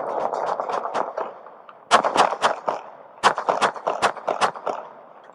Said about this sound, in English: Suspect down, shots fired.